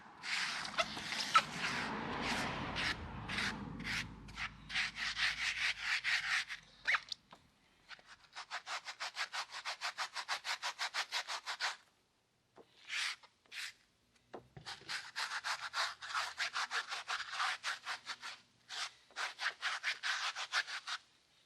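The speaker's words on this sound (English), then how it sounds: "We'll just give it a good rub in." Carpet cleaner worked into car floor mats by hand, a rapid run of close scrubbing and rubbing strokes in bursts separated by short pauses, with no talking.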